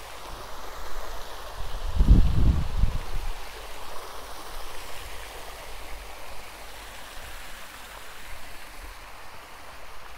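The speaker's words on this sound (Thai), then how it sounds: "ปั่นจักรยานมาจอดแล้วก็มาทำคลิปน้ำตกค่ะ" A continuous rushing roar from a waterfall in France, with a brief low thumping burst of wind or handling noise near the start before the steady flow carries on.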